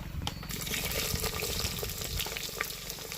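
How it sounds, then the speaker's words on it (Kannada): Chopped onions and biryani spices fry in a pot over a village-style wood-fired stove, giving a steady, dense sizzle with a watery bubbling texture that stays even throughout. "ನೋಡಿ ಈರುಳ್ಳಿ ಎಲ್ಲ ಚೆನ್ನಾಗಿ ಫ್ರೈ ಆಗ್ತಾ ಬಂತು"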